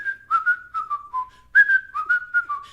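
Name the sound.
person whistling a TV theme song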